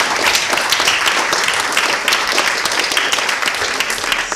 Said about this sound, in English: So they really deserve your applause